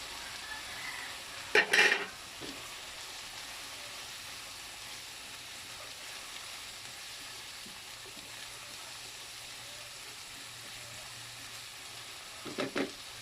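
Ground pork frying with potatoes and carrots in a pan for Kapampangan giniling with pork and beans; a steady, soft sizzle runs throughout, with a couple of brief clattering stirs near the start and the end.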